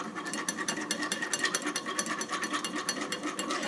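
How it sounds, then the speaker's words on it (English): Hemp oats mixture is whisked briskly in a bowl, making a rapid, steady rhythmic scraping and clattering. The sound is close and continuous, with no voices. "And you want to use a whisk and just whisk it up."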